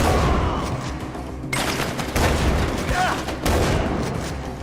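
Rapid gunfire bursts from a Far Cry 4 firefight dominate the clip, loud and close, with brief gaps between volleys and someone talking over the shooting.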